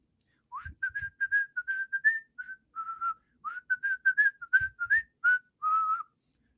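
A person whistles a quick melodic tune indoors, clear and close, with short bursts of notes broken by brief pauses and a couple of soft thumps underneath.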